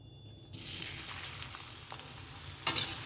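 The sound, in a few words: onion frying in oil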